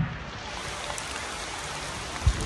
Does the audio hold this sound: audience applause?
no